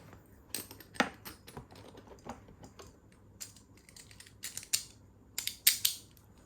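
Beyblade Burst driver parts are swapped on an Astral Spriggan top, giving a quiet scatter of small, sharp plastic clicks and snaps spread irregularly over several seconds, close and with no talking.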